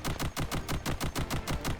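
Continuous rapid gunfire from the run-and-gun game Contra Operation Galuga, a steady rattling stream of evenly spaced shots at moderate loudness with no pauses.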